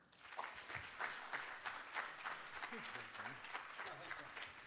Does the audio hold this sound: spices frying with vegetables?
no